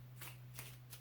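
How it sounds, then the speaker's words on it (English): A tarot deck being shuffled at close range, with three quick riffling bursts of card noise over a steady low hum and no voices. "But I'm going to shuffle"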